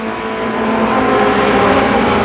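Loud, steady engine roar from ARCA Pro 4 race cars circling the Columbus Motor Speedway oval, a dense droning pack with the sound building slightly toward the end.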